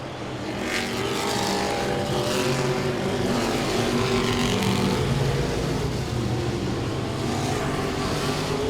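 Modified race cars roar around Langley Speedway in a continuous, loud engine drone that swells and fades as the pack passes at speed.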